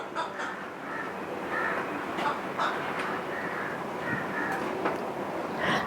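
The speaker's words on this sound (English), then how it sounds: "I'm in the garden here and I'm hearing birds around me." Birds call repeatedly around a garden, with crow-like caws and scattered chirps over a steady outdoor background hiss, moderately close and continuing throughout.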